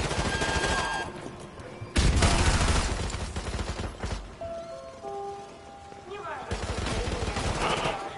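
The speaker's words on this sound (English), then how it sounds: "Everyone's shooting." Gunfire erupts in the Call of Duty: Modern Warfare 2 Campaign Remastered video game: loud, dense volleys of automatic shots in several sustained bursts, separated by briefer quieter stretches of lingering battle noise.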